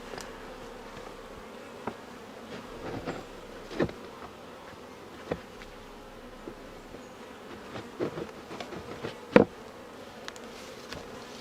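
Honeybees buzz around an open hive during an inspection a few days after a split, a soft continuous drone with individual bees passing close now and then as brief, louder buzzes.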